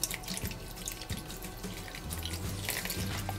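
Water pours onto potted plants with a soft, continuous splashing and trickling, fairly quiet and close, with small drips and gurgles as the soil soaks it up.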